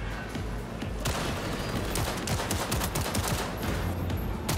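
Sustained gunfire in the video game Cyberpunk 2077, with dense automatic bursts and booming shots packed together, loud and continuous throughout.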